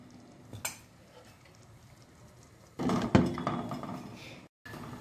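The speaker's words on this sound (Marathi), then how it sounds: "आता आपण याच्यावर झाकण ठेवूया" A lid goes onto a cooking pot of rajma masala with tomatoes simmering inside, giving a sharp metallic clink and then a louder clatter of metal against the pot later on.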